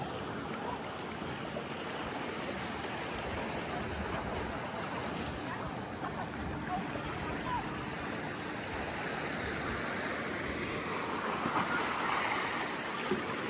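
Waves of the Caspian Sea at Aktau wash in a continuous broadband rush, with surf and wind noise steady throughout and faint voices now and then underneath.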